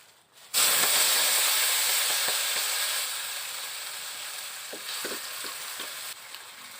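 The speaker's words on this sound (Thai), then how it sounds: "ทุกคนเดี๋ยวเราจะทอด ทอดหนอน ทอดรถด่วน" Bamboo worms drop into hot oil with a sudden loud hiss that holds as a dense, steady frying sizzle, close by and slowly easing, with a few faint clicks and pops near the end.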